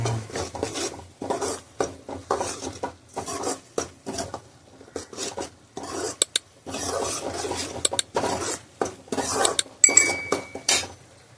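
Ground masala paste frying in oil in a pan for a Salem-style chicken gravy, stirred with a metal spoon that scrapes and clinks against the pan in repeated short bursts, close and fairly loud, with no talking.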